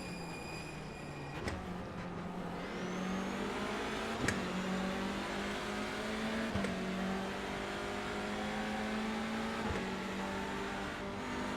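Touring car engine in iRacing at Imola on cold tyres and a cold track, droning steadily and continuously with a low rising and falling tone as it accelerates and shifts, loud and close, with a few sharp clicks of gear changes and no talk.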